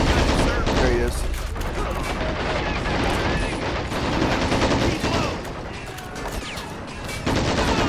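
Dense gunfire and machine-gun bursts from the war strategy game Men of War: Assault Squad 2 crackle continuously in a chaotic battle, with occasional voices over the shooting.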